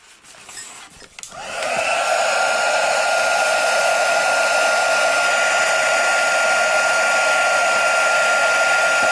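Handheld dryer blowing to dry gel medium on a paper mixed media page, a brief rustle and then a loud, steady close-up roar that holds without interruption.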